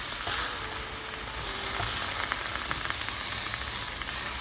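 Zucchini and onion frying in a pan, a dense, continuous sizzling hiss with faint scrapes of stirring, close and steady throughout.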